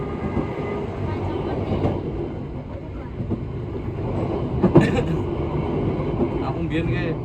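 The Argo Anjasmoro train rumbles steadily past nearby, a continuous heavy roar with brief metallic squeals; faint voices sit underneath.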